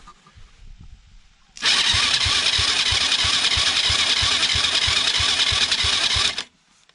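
A quad bike engine catches after a short start attempt and runs steadily at a fast idle, with a loud, even mechanical chug close by, then cuts off abruptly.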